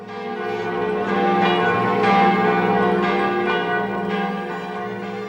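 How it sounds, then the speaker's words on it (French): Church bell rung at 11 o'clock for the 11 November armistice commemoration in Parigné-l'Évêque, France, sounding as steady repeated tolls with a sustained humming resonance, loud and continuous with no talk. "Voilà pourquoi le cloche y sonne."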